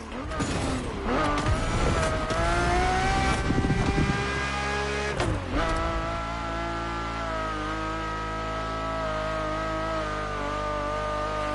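Ferrari race car engine roaring loudly up close, with sharp revving bursts and crackles early on before settling into a sustained high-pitched wail.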